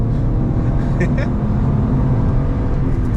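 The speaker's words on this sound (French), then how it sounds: "J'ai le silencieux qui commence à faire un bruit de casserole." A BMW E46 with a naturally aspirated engine runs at a steady, loud, low rumble, its exhaust muffler starting to rattle. A person talks over the engine throughout.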